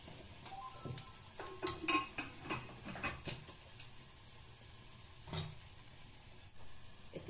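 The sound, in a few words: stirring swamp eel fish curry in a pot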